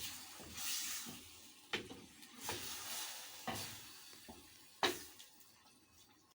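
Faint, quiet stirring of liver stew in a pot with water, an occasional scrape and splash against the pot coming in a loose rhythm of about five strokes, soft and close with a light sizzle underneath.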